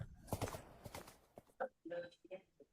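Horse hooves clip-clop in a short, uneven run of sharp taps, mixed with a voice and other talk nearby.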